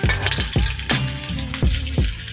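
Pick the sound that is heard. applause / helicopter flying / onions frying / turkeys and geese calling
onions frying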